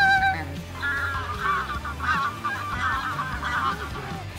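A flock of greylag geese honks repeatedly as it flies over a decoy spread in the Scottish Highlands during a goose shoot. The loud, overlapping calls continue without a break.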